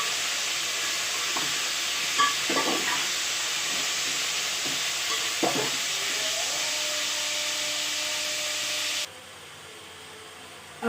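Ginger and garlic fry in a pot for chicken pulao: a loud, continuous sizzling hiss with a few soft stirring knocks, cutting off abruptly near the end.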